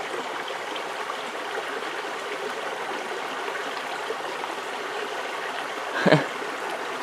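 A small mountain stream in the autumn Carpathians runs with a constant soft rushing babble, steady and close, broken by one brief splash or knock near the end.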